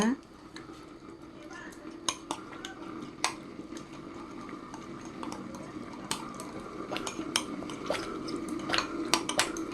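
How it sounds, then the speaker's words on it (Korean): A spoon scraping and clinking around a gochujang bowl as a tablespoon of water swishes in to rinse it, soft clatter of dishes in a kitchen beneath a voice talking. "물을 한 테이블 스푼만 여기 넣어서 이거를 씻어가지고 거기다 붓도록 하겠습니다"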